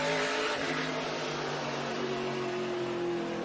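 SRX race cars roar around the short oval at Five Flags Speedway, a continuous loud blend of several engines droning and rising in pitch as the pack passes.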